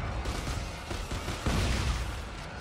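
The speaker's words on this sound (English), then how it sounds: "Man, I love the sound of that shotgun." Shotgun fire in the sci-fi horror video game Dead Space 3, heavy booming blasts and impacts layered over dense game noise, with a stronger burst near the end, loud and continuous without speech.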